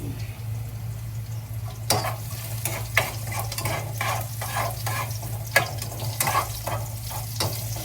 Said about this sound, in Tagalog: I-mix na natin yung onion.